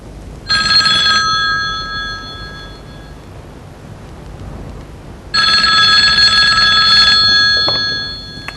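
A telephone rings loudly with two long bursts of bright electronic trilling, separated by a few seconds of quiet.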